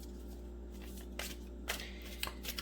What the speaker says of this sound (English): shuffle this deck